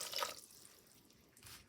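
Half a cup of water pours briefly into an Instant Pot while bottle gourd curry is being made, giving a soft, faint splash that fades quickly.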